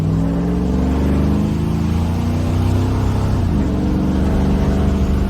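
A 1955 Chevrolet Bel Air fitted with an LS Vortec engine accelerates on an open road, its steady engine drone rising and falling in pitch as it opens up, loud and close without talk.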